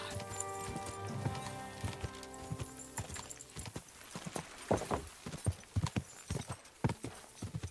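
Rhythmic clip-clop of a horse's hooves at a quick pace over the musical soundtrack of the game Kingdom Come: Deliverance 2, steady and close, with a brief whinny.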